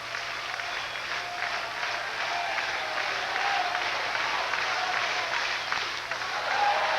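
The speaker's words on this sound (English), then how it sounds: "Clapping, cheering." A large crowd at a 1992 Hawaii vs. San Diego State college baseball game claps steadily, with cheering voices mixed into a continuous, distant wash of applause that swells slightly toward the end.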